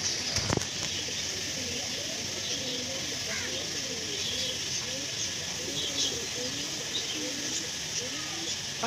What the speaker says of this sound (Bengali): পাখির ডাক, কাকের ডাক, হাঁস মুরগির ডাক, কবুতরের ডাক সব শোনা যাচ্ছে।